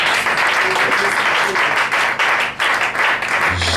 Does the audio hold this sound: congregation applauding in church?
yes